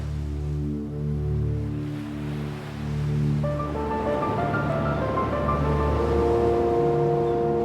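Pacific Ocean waves crashing against the rocky coast of Niue, a continuous rolling surf roar that swells and surges, with a steady engine-like hum beneath.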